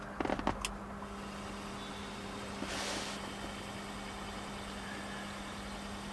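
An old, somewhat rusty blower motor from a Saab 9-3 runs with a steady low hum and faint whine, preceded by a few brief clicks at the start.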